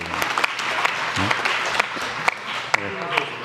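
Audience applause at a Korean national science and technology briefing, scattered clapping with sharp individual claps under a speaking voice.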